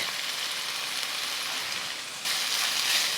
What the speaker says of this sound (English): now that the onions are golden, we're going to add some garlic